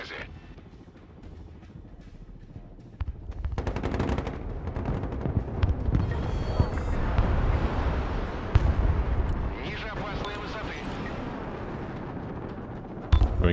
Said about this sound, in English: We're going to bring up the MiG-29 with the cruise missiles.